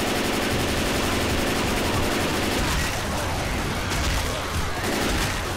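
Dense, continuous gunfire from a Left 4 Dead 2 zombie fight, rapid overlapping shots and bursts filling the whole stretch, loud and close, with a faint voice underneath.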